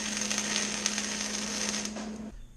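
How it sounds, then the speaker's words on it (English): A bike frame tube on a CT200u frame is welded, giving a steady, close crackling hiss with a constant electrical hum underneath that cuts off abruptly near the end. "I'm just going to go ahead and try to weld it anyways"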